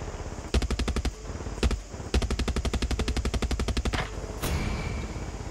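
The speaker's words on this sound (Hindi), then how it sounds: "ओए हेलीकॉप्टर में फायरिंग है भाई" Rapid bursts of automatic gunfire from a helicopter in Far Cry 6 rattle in long rhythmic volleys with short pauses, loud and close, ending in a brief sharper blast.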